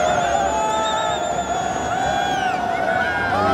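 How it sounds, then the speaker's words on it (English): Crowd at a cricket stadium during a 2013 Pakistan v Sri Lanka T20 match: a dense, continuous roar of many voices with sustained horn-like tones running through it. "Very expressive crowd."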